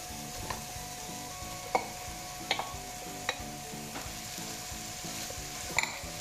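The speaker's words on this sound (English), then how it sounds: "now to this we add our rice" Rice stirred into cooked tomatoes in a frying pan, producing a soft, continuous sizzle and frying crackle with a few sharp clicks of a spoon against the pan, close and quiet, no talking.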